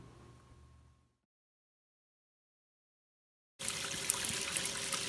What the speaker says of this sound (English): let the water run for just a little bit before you start filling up your flasks